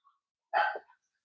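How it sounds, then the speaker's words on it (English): A single short dog bark, muffled and somewhat distant, with a faint yip just after; otherwise quiet. "Sorry, my dog's barking."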